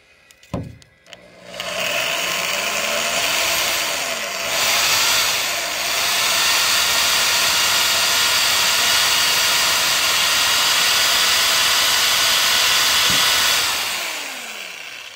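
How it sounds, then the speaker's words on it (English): A power drill makes a steady high-pitched whirring drone, running nearly continuously after a brief start as it drills a hood pin hole in a 1988 Dodge Dakota Sport, loud and close, with small shifts in pitch. "So now I got a small bit and then I'm going to drill this"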